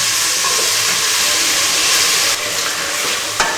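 Onions and peppers frying in a pot for cabbage soup, a loud continuous sizzle and hiss close up, with a faint clunk near the end.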